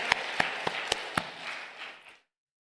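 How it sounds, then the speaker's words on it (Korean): A congregation claps hands at an evening worship service at a fasting prayer retreat, with about five sharp, evenly spaced claps standing out over a soft wash of clapping that fades out after two seconds. "박수 치면서 할렐루야"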